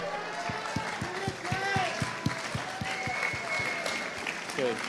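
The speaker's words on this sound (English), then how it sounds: "Let's give them a round of applause." Applause from a student spoken word competition audience, a steady crowd of clapping hands with sharp, rhythmic claps close by and cheering voices mixed in over the top.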